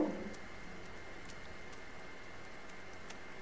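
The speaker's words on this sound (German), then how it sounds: "Oh, es regnet." Video game rain: steady patter with soft, dense hiss throughout, a brief louder splash at the start, and faint occasional chirps in the background.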